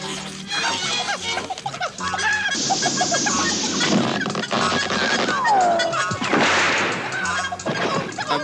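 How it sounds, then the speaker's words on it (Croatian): Cartoon chickens cluck and squawk in a busy, loud animated scene, layered over music, crashes and other sound effects, with a brief sliding whistle partway through. "Kokoši! A gdje ima kokoši ima i jaja."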